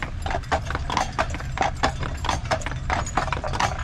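Horse hooves clip-clop on the road as a carriage is pulled on car-free Mackinac Island, a brisk, close, continuous rhythm of sharp hoof strikes with a low rolling rumble beneath.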